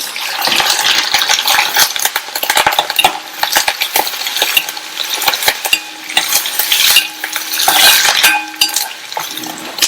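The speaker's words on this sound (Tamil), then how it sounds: "2 மீடியம் சைஸ் வெங்காயத்தை இந்த மாதிரி ஸ்லைஸ் பண்ணி சேர்த்துட்டு கூடவே கொஞ்சம் கறிவேப்பிலை இலைகள்." Sliced onions and curry leaves sauté in a hot pan for a potato kara curry, with steady sizzling broken by repeated clinks and scrapes of a spoon stirring against the pan, loud and close with no talk.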